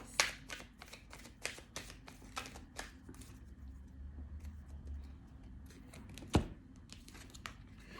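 Tarot cards riffle and snap in quick bursts, several shuffles in a row with crisp slaps, close up, with no talking.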